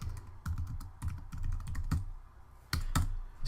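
Someone types a search on a computer keyboard, a close series of quick clicking keystrokes in short irregular bursts with brief pauses between them.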